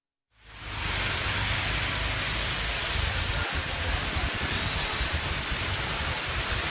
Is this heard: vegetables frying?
no